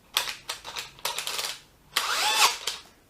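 A DeWalt DCD996 drill's clutch ratchets in a series of loud, rapid clicking bursts, several short runs separated by brief pauses, close to the mic.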